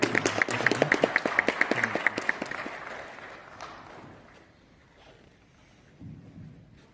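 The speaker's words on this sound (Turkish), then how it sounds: "Alkışlarınızla huzurlarınıza davet ediyorum." An audience at a Turkish poetry and music recital applauds in a burst of claps that fades over several seconds as a performer is welcomed to sing the folk song Sakarya.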